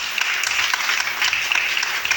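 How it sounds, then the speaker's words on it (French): Crowd applause and cheering at a church youth gathering, a dense continuous wash of clapping filling the hall for a couple of seconds without a break. "On peut d'abord acclamer pour nous-mêmes."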